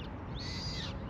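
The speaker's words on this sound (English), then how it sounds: "But you can hear them chirping." A small bird gives a single faint, thin whistled call outdoors along a tree-lined path in Malmö, Sweden, over quiet background hum.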